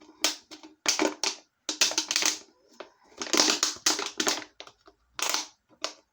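Scissors snip a circle out of a thin plastic water bottle, making a quick series of close, crisp crunching cuts with brief pauses between them.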